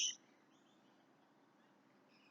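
Birds chirp outdoors in a garden with grapevines and compost bins: a short, bright call at the very start and another brief one near the end, faint over steady low background noise.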